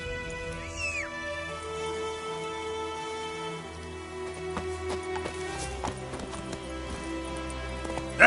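In a video game, the horse Roach gives out a muffled rhythmic clip-clop of hooves under ambient music and scattered environmental sounds, with a brief creature cry near the start.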